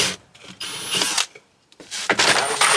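Power drill boring a hole in the side of a Sprinter van during an electrical build: several uneven bursts of loud grinding whir with short pauses between, close by.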